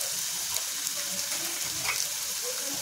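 Onion with spices frying in a pan until golden, a steady close sizzle with faint stirring scrapes, alone without talk.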